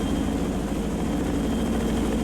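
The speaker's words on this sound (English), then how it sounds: "Chinooks." Chinook helicopters in the naval video game Sea Power, a steady, dense rotor and engine drone that holds level and fills the whole brief stretch without break.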